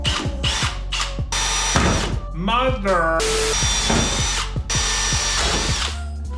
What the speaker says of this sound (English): So I'm gonna drill some holes.